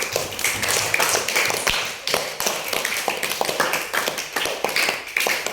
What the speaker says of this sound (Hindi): वेरी गुड, तालियां।